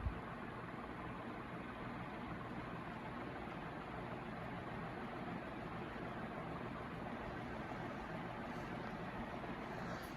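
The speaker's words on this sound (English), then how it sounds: "it's a pretty effective little air mover for a curved-bladed 36-inch fan" An Envirofan 36-inch curved-blade industrial ceiling fan runs on high, giving a constant broad whooshing rush of moving air with almost no motor hum, steady and unbroken.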